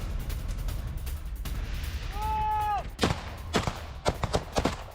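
Ukrainian soldiers firing at Russian troops: a run of sharp, loud gunshots and heavy thuds in rapid succession, with a shouting voice and a whistling tone in between.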